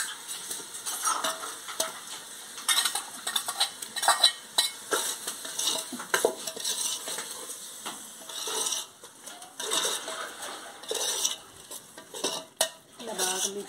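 Onion paste fries in oil in a pan for village-style fish curry while a spoon stirs and scrapes in irregular strokes over a soft, continuous sizzle, heard close.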